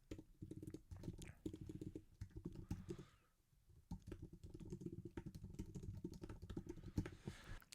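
Someone types steadily on a computer keyboard, entering text into a form. The keystrokes are soft, fast and close, with a brief pause near the middle and no talking.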